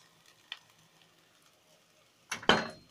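Egyptian rice is stirred with fried onions in a pot, giving a faint tap at first and then a loud, scraping, sizzling burst of stirring near the end, with no one talking.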